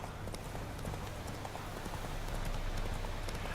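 Clip-clop of the horse Roach galloping in a video game, a quick, even patter of hooves under a hissy, rain-like wash, faint and steady.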